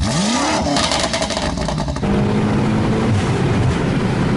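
Close, loud engine revving from a car, steady and strong throughout with a rising then settling pitch, no voices over it.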